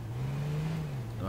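A car engine in the battle royale game H1Z1, driving very close by: a steady, loud motor drone that holds its pitch and then dips slightly, heard alone over a brief moment.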